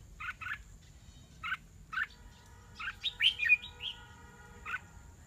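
A female red-whiskered bulbul calls near a bird trap, giving short clear chirps spaced a second or so apart, then a quick burst of warbling notes, fairly close against quiet background.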